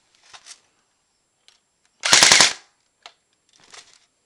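An AK-74 airsoft gun set to full auto fires a quick burst of about half a second, a tight rattle of rapid, close shots, with faint clicks and handling sounds before and after.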